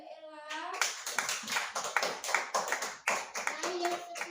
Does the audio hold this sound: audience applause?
yes